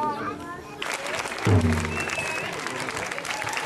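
An audience claps at a primary school performance, a dense burst of applause that swells and continues over the last few seconds, with a voice speaking over it.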